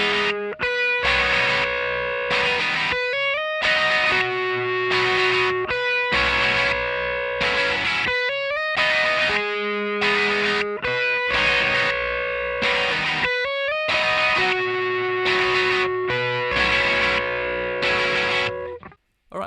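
Distorted electric guitar playing section 5 of a tune, in choppy repeated chordal bursts with short gaps, loud and close, no voices, ending abruptly.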